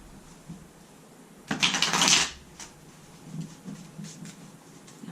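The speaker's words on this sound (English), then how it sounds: "I'm going to shuffle these" A short riffle of tarot cards being shuffled, a quick crisp flutter lasting under a second, then quiet with faint handling noises.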